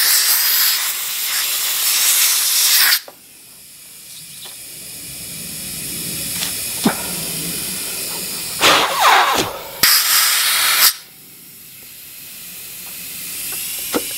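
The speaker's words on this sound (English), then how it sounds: "I'm just going to take my air compressor here real quick" An air compressor nozzle blasts loud hissing air through the clogged nozzles of a Ryobi driveway cleaner attachment in several bursts: one long opening blast, then quieter hissing with a few short sharp puffs.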